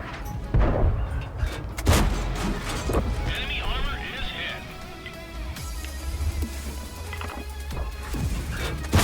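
Tank guns fire in a tank combat game, several heavy booming shots and crashes spread over the span, mixed with engine rumble and game effects while someone talks excitedly.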